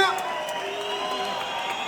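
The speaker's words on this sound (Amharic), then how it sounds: "እስቲ አንዴ እንደበረከት እስቲ ሞቅ ያለ ጭብጨባ" A crowd at an MMA competition in Ethiopia cheers and claps, a busy mix of voices, whoops and applause heard from within the audience, with an announcer speaking over it.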